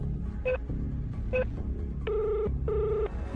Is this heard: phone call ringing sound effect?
yes